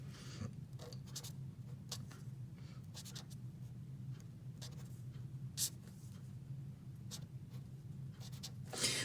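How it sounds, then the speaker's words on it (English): A pen writes a fraction by hand on paper or a board in a math lesson: close, soft scratchy strokes and taps in irregular bursts over a steady low hum. "I'm going to go ahead and just write some fraction up here."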